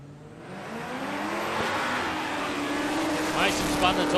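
A drag racing car makes a pass down the strip at Palmyra Dragway, a loud sustained engine roar that climbs in pitch as it accelerates away, with a commentator talking over it.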